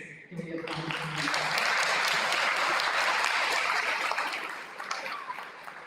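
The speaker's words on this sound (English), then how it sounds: "So I really want us to give applause to the parents." Sustained applause from an audience at a university academic excellence ceremony, honoring parents; dense, steady clapping swells and holds for several seconds before easing slightly.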